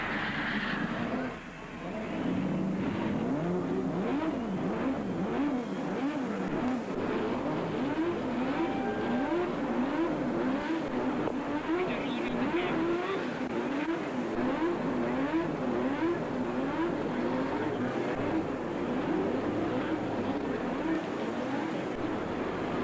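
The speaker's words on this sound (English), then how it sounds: "Gentlemen, start your engines." Race car engines at the 1982 Michigan 500 fire up and rev loudly together, rising and falling whines layered in a dense continuous roar of a packed field.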